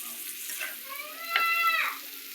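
Fish fillets sizzle and crackle in a hot frying pan right after being turned over, a close, steady frying hiss with a brief louder burst midway as the pieces settle.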